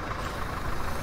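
A farm tractor engine in Farming Simulator 19 runs at a steady idle, a continuous low rumbling drone heard close and alone over a brief moment.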